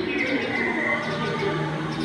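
Bird calls play at a museum exhibit on Borneo cultures, a continuous chorus of chirps and cooing at moderate level against a busy indoor background.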